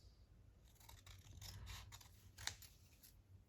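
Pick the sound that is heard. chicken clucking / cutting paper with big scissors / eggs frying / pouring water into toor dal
cutting paper with big scissors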